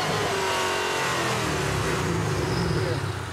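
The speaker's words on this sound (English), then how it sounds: "well-known Mustang sound, the V8 rumble" A Ford Mustang V8 revs at a rooftop car gathering, a thick, loud rumble that swells and holds steadily from nearby, with no talk over it.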